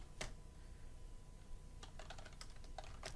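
A computer keyboard clicks as a bash command is typed in a Linux terminal: one early keystroke, then a quick run of faint, sparse clicks near the end over a low hum.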